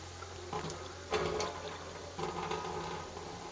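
Water poured into a cooking pot holding ginger-garlic paste for a Pakistani beef trotters dish, three short splashing pours, fairly faint and close.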